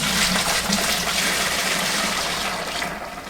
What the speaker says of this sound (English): pour about half of this liquid into the fermenter